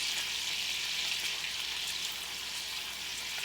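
Pork chops fry in a hot pan with a steady, dense sizzle that holds evenly throughout, close and unbroken, with no talking.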